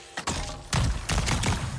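Explosions in the video game Avatar: Frontiers of Pandora, several sharp bursts in quick succession, loud and close, with rumbling tails.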